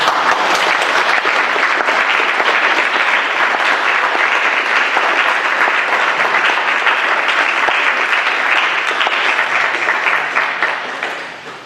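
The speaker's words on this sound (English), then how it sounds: "we not only owe them a great debt of gratitude, but even a round of applause" A town meeting crowd gives a long, steady round of applause for town employees, dense and loud throughout before tapering off at the very end.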